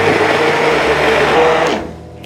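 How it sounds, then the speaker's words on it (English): Immersion blender whirs loudly through butternut squash soup in a pot, a steady close motor drone with churning liquid that cuts off near the end. "I'm gonna get my immersion blender"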